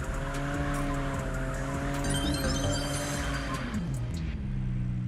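A car in an open-world mobile driving game drifts on the handbrake, tires squealing in a long skid over a steady engine drone, the pitch sliding down as the slide ends.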